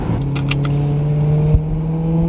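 A manual stick-shift car engine rising slightly as gas is gently added, a close, continuous hum climbing in pitch with a small bump near the end, no talking.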